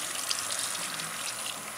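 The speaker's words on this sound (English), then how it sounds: "I'm just going to rinse these." Tap water running steadily over canned beans being rinsed, a continuous loud hiss and splash with no talk.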